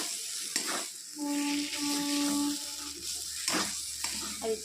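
Taro paste (kachubata) sizzles and fries in a pan while it is stirred, with scraping stirs at intervals over a steady sizzle and a sustained tonal hum in the middle.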